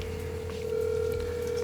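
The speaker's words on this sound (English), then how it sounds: "Let's give Edgar a phone call" A phone call being placed: a steady electronic dialing tone holds for nearly two seconds, clean and fairly close, with no talking over it.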